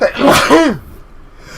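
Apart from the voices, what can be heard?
sneeze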